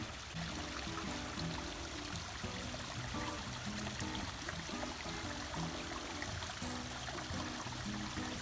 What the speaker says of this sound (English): I heard the sounds of water falling, so I came to investigate.